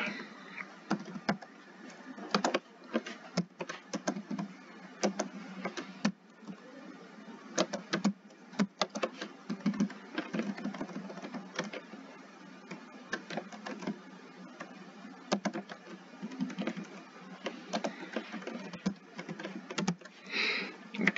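Steady typing on a computer keyboard while entering strings into a C++ program, a dense run of close key clicks and taps continuing alone for about twenty seconds.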